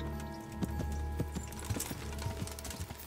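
Horse hooves clip-clop on the ground in Kingdom Come: Deliverance, a slow uneven series of light thuds over a steady hum of game ambience.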